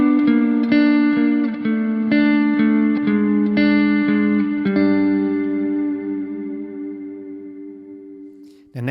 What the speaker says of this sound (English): let's dial up a little bit of that reverb on the send.